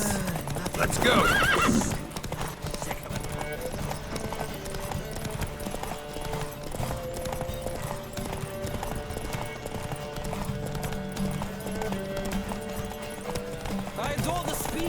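Rhythmic hoofbeats of a galloping horse in The Witcher 3: Wild Hunt, with a whinny near the start, running steadily under a bed of music throughout.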